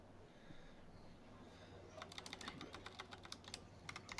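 Rapid clicking keystrokes on a new clicky computer keyboard come in after a quiet start, a quick irregular run of sharp taps at moderate distance.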